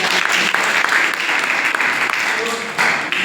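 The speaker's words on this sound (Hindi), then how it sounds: "तो एक बार जोरदार तालियां।" Loud, dense audience applause fills a college program hall at P.G. College Doiwala, sustained steadily throughout with a brief swell near the end.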